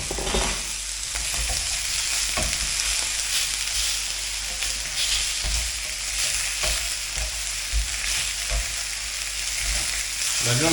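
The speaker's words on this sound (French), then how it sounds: "c'est pour l'ail, pour le faire frire" Garlic frying in a small amount of fat alongside cooking meat for a soy salad, a continuous close sizzle with intermittent scraping and stirring knocks from a utensil, no speech.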